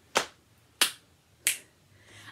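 Three crisp, evenly spaced finger snaps in a rhythm song for adults, close and fairly quiet, about two-thirds of a second apart, with a faint soft sound trailing at the end.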